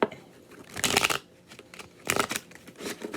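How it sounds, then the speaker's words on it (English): Tarot cards are shuffled in two quick riffling bursts, crisp and close, separated by quieter handling sounds. "So let me get this shuffled here."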